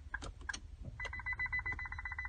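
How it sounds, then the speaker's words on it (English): Confirmation tones from a Smart Pro key programmer during proximity key programming on a 2019 Infiniti QX60. A few short electronic chirps come first, followed by a rapid, even run of clear beeps over faint background noise. "You get your multiple beeps telling you everything went in fine."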